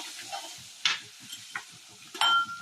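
Grated ginger and chili powder sautéed in a pan for onion kachori filling, a soft sizzle with scraping stir strokes and a few sharper clinks of a spatula against the pan, close and moderately quiet.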